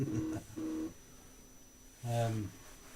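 A few short electronic phone tones sound close by in three separate bursts, with quiet gaps between them.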